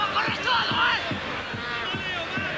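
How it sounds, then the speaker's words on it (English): Large crowd at a Copa América 1991 football match in Chile, a broad, steady roar filling the stadium with a murmuring wash and occasional louder swells, continuous throughout. "Big crowd, of course, here"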